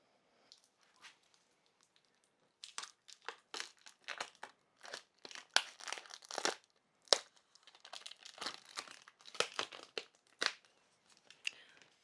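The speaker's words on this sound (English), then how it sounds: "let's go ahead and unwrap this one" A freshly pressed hot sublimation espresso mug is unwrapped from its wrapping, giving a sequence of close, irregular crinkling and tearing rustles with short pauses, fairly quiet overall.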